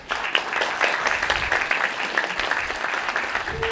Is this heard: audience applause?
yes